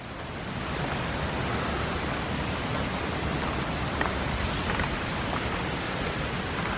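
A continuous, even roar of water surging down Clifton Gorge fills the air, steady and close, without pauses, talk or other distinct sounds.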